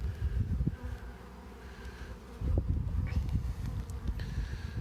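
Swarm of honeybees near backyard hives, a low, dense buzzing hum that swells and fades as insects pass close, with occasional louder nearby fly-bys over faint rustling.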